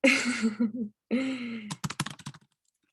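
A computer keyboard clatters in a quick burst of about a dozen keystrokes, following a few breathy vocal sounds, close and fairly clear.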